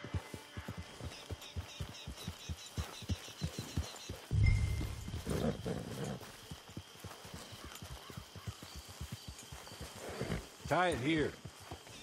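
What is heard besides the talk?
horse sounds in the video game Red Dead Online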